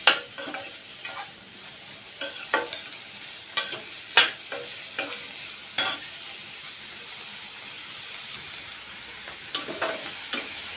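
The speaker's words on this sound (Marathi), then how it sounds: "कांदा थोडा सॉफ्ट झा होईपर्यंत परतून घेणार आहे" Onions sizzle in hot tempering oil, sautéed until soft for tomato rice, with a steady frying hiss, broken by sharp scrapes and clinks of a spatula stirring the pan.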